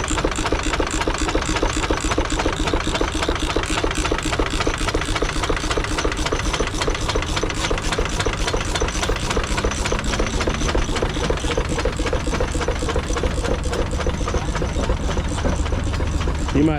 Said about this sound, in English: that's what a good engine sounds like